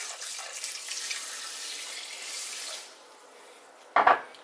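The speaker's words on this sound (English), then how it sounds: "I'm going to add water to it." Water runs from a tap into a pot while preparing Ghanaian brukina, a steady hissing stream that stops partway through, followed by a sharp clank of the pot close by.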